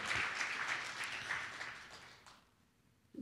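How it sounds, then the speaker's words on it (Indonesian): A church congregation claps during a sermon, a fairly quiet burst of applause that tapers off and fades to near silence at the end. "Berikan tepuk tangannya buat Tuhan Yesus ya"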